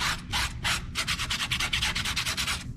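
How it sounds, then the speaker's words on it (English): Sandpaper is rubbed against a tubeless mountain bike tire in quick, close back-and-forth strokes, first a few slower passes and then a rapid even rhythm, heard on its own. "I'll just switch to sandpaper."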